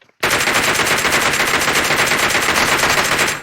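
A DP machine gun fires in PUBG Mobile, opening after a brief silence into a loud, sustained burst of rapid gunfire that continues without a break.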